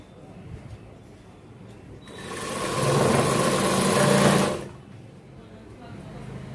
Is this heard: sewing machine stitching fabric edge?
yes